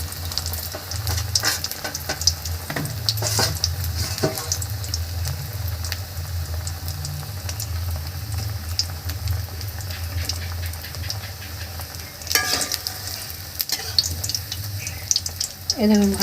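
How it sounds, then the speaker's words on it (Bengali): Bengali fuluri fritters fry in a pan of oil, a moderate crackling sizzle with a low hum underneath and occasional clinks and stirring, no voices. "ওই পিঠটাই শুধু ভেজে নেব"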